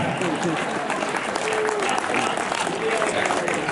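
Audience applause at a Hindi poetry gathering (kavi sammelan) in Jagdalpur, a steady dense clatter of many hands clapping throughout, with a few faint voices mixed into the crowd.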